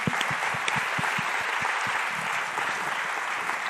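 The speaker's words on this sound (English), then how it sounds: "Let's give her a round of applause." Steady applause from a town hall audience on gun safety, a dense wash of clapping at even loudness with no voices over it.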